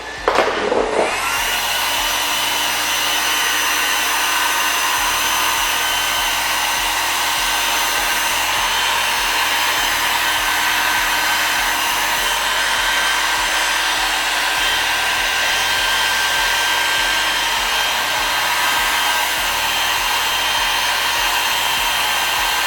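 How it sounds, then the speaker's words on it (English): A heat gun blows continuously on the tinted tail light of a Tesla Model X, a loud, steady airy roar with a whine that starts abruptly and holds without pause, no voices. "I will use the heat gun."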